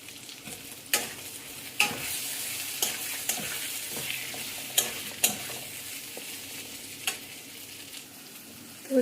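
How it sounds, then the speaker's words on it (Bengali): Jackfruit curry stirred in a pan over a low gas flame, a steady sizzle broken by sharp scraping spoon strokes every second or so, close and clear with no talking. "এটাকে আমি একটু ভালো করে নেড়ে নেব।"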